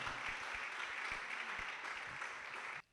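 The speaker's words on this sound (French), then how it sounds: "sous vos acclamations s'il vous plaît" An audience at a live music show in Kivu applauds a gospel performer being introduced; a faint, steady wash of clapping with a few low thumps, ending abruptly.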